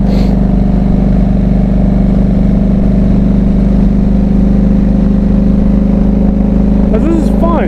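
Motorcycle engine droning steadily and loud while riding, with a rising pitch toward the end as it accelerates, and someone talking over the engine and wind.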